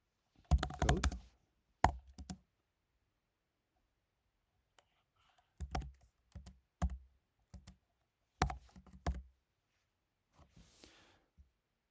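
Bursts of typing on a computer keyboard while writing Java code, with quick clusters of close key clicks separated by silent pauses and some faint breathing in a quiet room.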